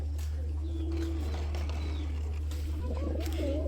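Gorra pigeons kept for sale give soft, low cooing calls at close range over a constant low electrical hum, with faint scattered chirps and no talk.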